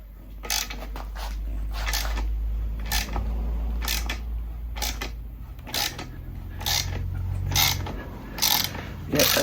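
A 21 mm wrench tightening a ball joint nut on a Smart 453, with sharp ratcheting clicks and creaks in irregular bursts over a low steady hum.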